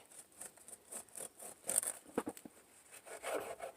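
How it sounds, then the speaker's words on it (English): A knife saws through a slice of freshly baked, fluffy sweet white bread, giving a series of soft, close rasping and crumbly strokes, quiet and irregular, with no voices. "I'm going to let it cool for just another minute, and we'll cut a slice off. All right, I'm going to cut it."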